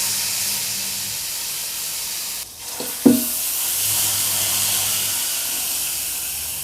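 Hot oil tempering with dried chillies, curry leaves and asafoetida hisses steadily, then a sharp burst of sizzling erupts as it hits the rasam, settling back into a softer continuous hiss.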